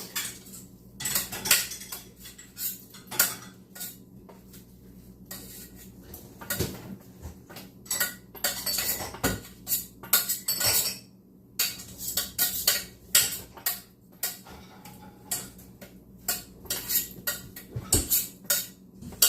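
Lentil mush is spooned back into a pot with a metal utensil, giving repeated clinks and scrapes of metal on cookware in irregular bursts, close and fairly quiet with no talking.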